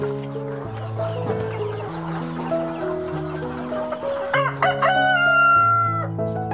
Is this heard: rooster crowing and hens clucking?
yes